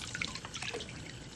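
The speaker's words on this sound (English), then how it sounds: "I let the water run because it gets in between the shell and the egg" Tap water runs steadily from a faucet into a sink while a boiled egg is peeled under it, a soft close trickle with faint drips and no voices.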